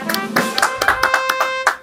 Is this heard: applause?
yes